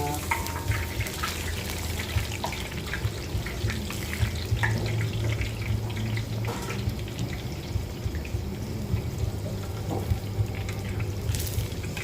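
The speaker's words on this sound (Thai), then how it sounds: "ทอดไปเรื่อยๆครับ อย่าให้หนังหมูโดนก้นกระทะนะครับ" Pork skin fries in a pan of hot oil, a steady soft sizzle and bubbling hiss that runs on without a break, with a faint low hum underneath.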